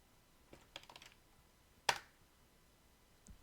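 A few scattered computer keyboard keystrokes in Node, sparse and fairly faint, with one sharper key press standing out near the middle and a soft click at the end.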